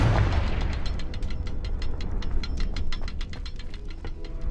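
A Confringo fire-blast spell cast in Hogwarts Legacy, a loud booming burst followed by a rapid crackling series of sharp ticks and pops, dense and close with no talk.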